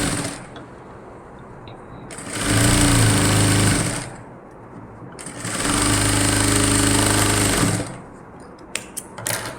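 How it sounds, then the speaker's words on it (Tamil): A sewing machine stitching a nightie runs in two loud, sustained bursts of a few seconds each, a fast mechanical whir separated by near-quiet pauses, with small clicks at the end. "அப்படியே அது மேலேயே இன்னொரு ஸ்ட்ராங்காக இன்னொரு படிமான தையல், அடுத்த தையல் போட்டுட்டு வந்துடுங்க கையை."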